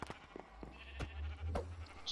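Minecraft sheep bleat several times in short bursts amid the game's thuds and hits, close and fairly clear, with no talking.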